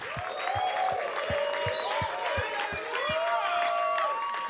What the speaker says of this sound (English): give him a better round of applause